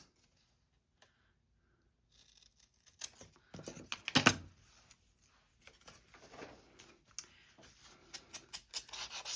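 Scissors snipping fabric and paper for a pocket tag, a few isolated close clicks followed by a sharp, louder cut and a run of small scraping snips.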